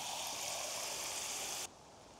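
Water poured steadily into a cement mold outdoors, a dense continuous splashing pour that stops abruptly near the end, leaving quiet background.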